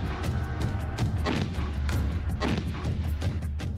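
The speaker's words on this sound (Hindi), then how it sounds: "ये होवित्जर तोप" A rapid series of heavy booms and thuds from howitzer artillery fire, repeating irregularly at moderate distance with no voices.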